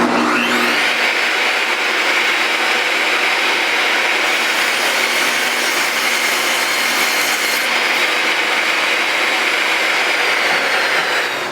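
A power saw, either a miter saw or a table saw, cuts the curved cove decorative edge off a wooden board with a loud, sustained high whine and rasping cut that spins up, holds steady, then winds down near the end.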